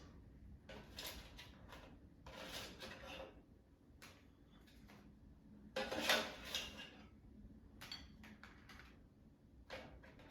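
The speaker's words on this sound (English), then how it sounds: "Now let's take them out of the air fryer." A frozen Korean mandu batch comes out of an oil-free air fryer, the basket giving a few close metallic clatters and scrapes with a louder clank near the middle.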